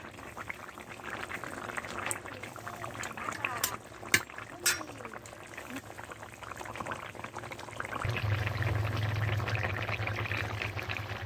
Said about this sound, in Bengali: মাছ দেওয়ার পরে আমি 3 মিনিটের মতো ফুটিয়ে নেব